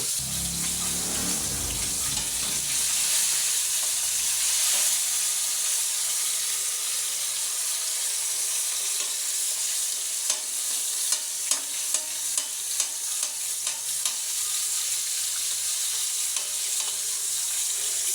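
Chicken frying in a pan, a loud, steady, hissing sizzle of hot oil throughout, with a few faint clicks and taps of a utensil in the later part and no speech.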